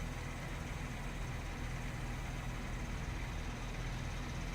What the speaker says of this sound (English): The engine noise they've got out of it's fab.